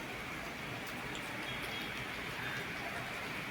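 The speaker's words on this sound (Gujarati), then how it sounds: "આજે અમદાવાદમાં જોરદાર વરસાદ છે" Steady, dense hiss of heavy rain falling continuously in Ahmedabad, broad and even throughout with no voices or distinct events.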